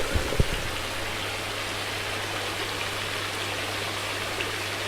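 Water spray falls onto a koi pond at a koi breeding farm to cool the water, making a steady rain-like hiss that holds evenly throughout, with a brief low thump near the start.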